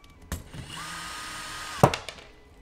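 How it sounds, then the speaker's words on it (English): A power drill briefly whirs while driving a screw on a goBILDA robot, a close, short motor whine between a sharp knock at the start and a loud clunk near the end, with no talking. "I was trying to tighten that screw"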